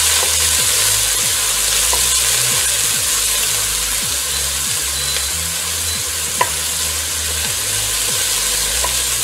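Onion frying in oil over medium heat while being stirred, a continuous loud sizzle with repeated scraping strokes of the spoon against the pan, no voices.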